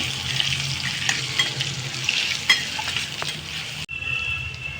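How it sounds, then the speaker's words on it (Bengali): Chopped onion sizzles steadily in hot oil in a wok for a Bengali mushroom dish, a dense close hiss with small stirring clicks that cuts out abruptly near the end, leaving a thinner quiet sizzle. "একটু ভাজা ভাজা করে নেব।"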